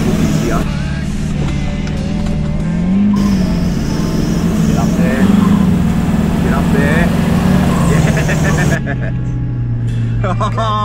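A 4x4 engine labours in low gear, towing a caravan up a soft sand dune at Warroora Station, Ningaloo, a steady loud drone with shifting pitch, while people talk over it.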